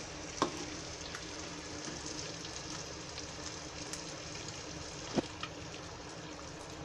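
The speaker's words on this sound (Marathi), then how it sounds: "त्यासाठी पहिले मी आधी मच्छी फ्राय काढून घेते" Magur catfish pieces fry in a pan with a steady, low hiss of oil that runs throughout, broken by two brief sharp pops; no one speaks.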